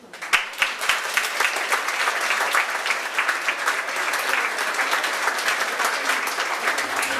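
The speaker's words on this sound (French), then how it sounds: "Je vous demanderai une gerbe d'applaudissements avant d'applaudir les lauréats." An audience applauds steadily in a harbourside hall at an awards ceremony, a dense, sustained clapping from many hands that holds an even level from start to finish.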